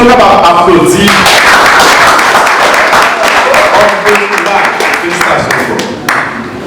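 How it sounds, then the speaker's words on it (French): Applause from a wedding congregation inside a church, a loud dense wash of clapping that carries on steadily and fades slightly toward the end, with voices mixed in. "Est-ce qu'on est capable d'applaudir?"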